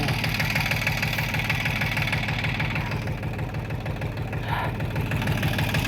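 A Kentavr 244SX tractor engine idles close by in snowy cold, with a steady, rhythmic low knocking chug that never lets up.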